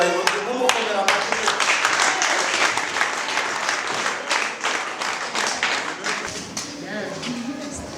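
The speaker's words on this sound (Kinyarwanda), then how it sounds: "Atambuke mu byubahiro tumukomera amashyi." An audience at a ceremony honouring an award recipient breaks into applause, a dense burst of many hands clapping that slowly thins and fades, with a voice talking over it.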